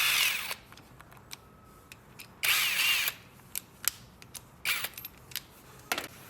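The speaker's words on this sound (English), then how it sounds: "Use an M8 socket to remove the 2 mounting bolts on the brake bracket." Socket wrench removing two M8 mounting bolts from a motorcycle front brake bracket, quiet with bursts of ratcheting clicks and scattered sharp metallic ticks and taps.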